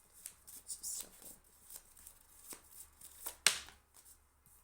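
Soft riffling and flicking of tarot cards being shuffled in several quick bursts, close by and fairly quiet, with one sharper snap near the end.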